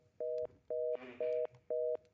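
A telephone line tone plays as four even, short two-pitch beeps with a brief muffled noise between them, heard over a phone call on a Romanian morning radio show.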